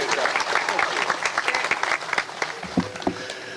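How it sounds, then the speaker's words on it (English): Crowd applause at an outdoor statue unveiling ceremony for Dawn Staley in Columbia, lively scattered clapping with some cheering, fairly close and dense, tapering slightly toward the end. "Ladies and gentlemen, clap it up for Mr."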